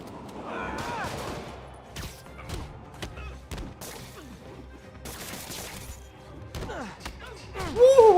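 Thugs firing guns in the Spider-Man PS4 video game, scattered sharp gunshots and thuds at irregular intervals, mixed with in-game voices and grunts, louder toward the end.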